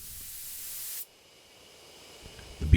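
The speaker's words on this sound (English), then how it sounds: "I take careful aim and spray the drug." Insecticide sprayed at a bee hive in the video game Death Mark, a loud steady aerosol hiss lasting about a second that cuts off abruptly, followed by near silence and a faint knock near the end.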